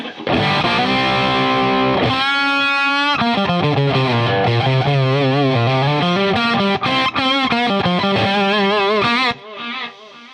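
Heavily distorted electric guitar through a Model RPA overdrive preamp pedal with gain at halfway, sustained chords and bending notes ringing loud and continuous, then cutting off near the end.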